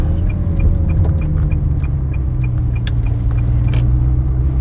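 A 2004 Ferrari 360 Spider with about 10,000 miles rolls into a car dealership, its engine a steady, close low rumble, with faint clicks and bird-like clucking sounds in the background.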